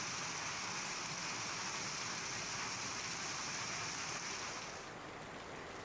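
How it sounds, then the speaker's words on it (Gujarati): Unseasonal rain pouring in Banaskantha district, a dense steady hiss of falling water hitting surfaces, constant and fairly close, easing slightly toward the end. "બનાસકાંઠા જિલ્લાના વાતાવરણમાં પલટા બાદ કમોસમી વરસાદ ખાબક્યો"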